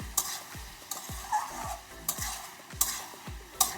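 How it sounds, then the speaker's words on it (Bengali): Prawns and pumpkin sauté in a pan for a village-style Bengali dish, with repeated spatula strokes scraping the pan in a steady rhythm over a soft sizzle, close and alone. "আমি ভালো করে কষিয়ে নিয়েছি।"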